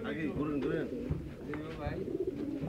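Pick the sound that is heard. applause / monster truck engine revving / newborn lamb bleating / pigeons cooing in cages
pigeons cooing in cages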